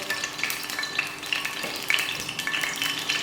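Sunflower oil with a tablespoon of mustard oil heats in a pan, giving a steady close sizzle and crackle with faint scattered pops and light stirring, no talking.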